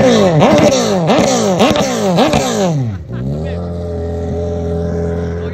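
A prototype F1 jet ski engine is revved hard in rapid, rising bursts, then drops to a steady, droning idle; loud and close throughout.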